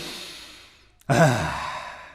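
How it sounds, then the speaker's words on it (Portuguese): A deep breath drawn in during a vocal warm-up exercise with the arms raised overhead. After a near-silent pause, a sudden, close, airy inhale swells and then trails off slowly, with no talking. "Primeiro, braços para cima, respiração profunda e inspirem"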